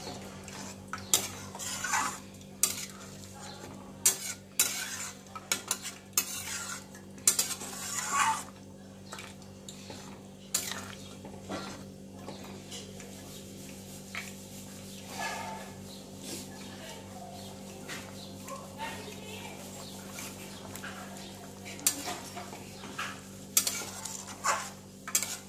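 A dahi bara aludom mixture bubbling in a pan sounds close, with uneven stirring clatter and scraping over a low simmering hiss and no speech.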